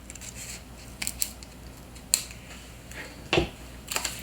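Scissors handled in a quiet room while prepping for a lace and eyelet craft make, giving a few sharp metallic clicks and snips spaced across the moment, close and crisp against faint background hiss.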